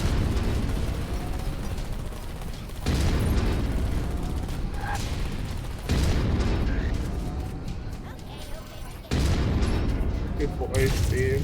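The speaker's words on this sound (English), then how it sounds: "Surprisingly, my auto cannon is also a really good sniper option." An autocannon firing in a sci-fi mercenary video game, heavy continuous booming bursts in long sustained stretches broken by brief pauses, loud and close with a voice speaking over the fire.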